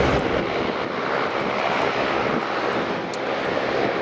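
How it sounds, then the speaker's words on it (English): Beechcraft King Air turboprop taxiing at Aberdeen Dyce Airport: a steady, loud engine drone with a broad whooshing roar, constant and close, with faint high-pitched ticks above. "We'll see this King Air taxiing in just a second."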